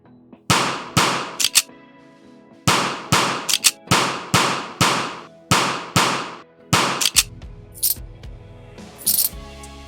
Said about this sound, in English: I added 2 additional sounds. One for reloading and one for picking up the bullets.